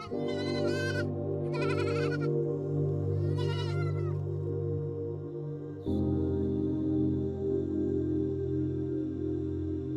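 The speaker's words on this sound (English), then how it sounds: "Further inland, herders guide goats across fractured limestone terrain." Goats bleat in a few short, wavering calls while herders guide them across fractured limestone terrain, heard over a steady low drone.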